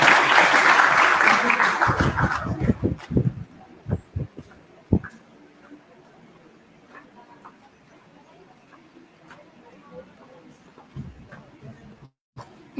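Loud applause from a graduation ceremony crowd fades out over a few seconds into scattered claps, leaving a quiet room with faint noises.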